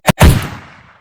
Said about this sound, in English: now let's add the gunshot sound to round this off.